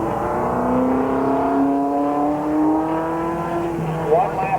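Race cars roaring around the 1987 Ohio state race at Columbus Motor Speedway, a loud engine drone rising in pitch as cars accelerate past, with a track announcer calling the action over it.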